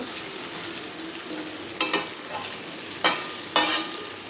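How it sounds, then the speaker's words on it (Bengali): Ground spice paste with fish roe stirred and fried in a pan over a medium gas flame: a continuous sizzle broken by a few sharp scraping strokes of the spoon, close up. "বাটা মশলা দিয়ে একটু নেড়ে চেড়ে নেব"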